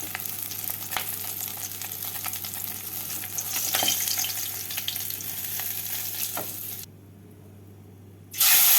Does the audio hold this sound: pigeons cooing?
no